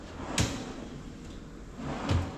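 A kitchen drawer opens and shuts, giving two dull thumps about two seconds apart over a steady low room hum.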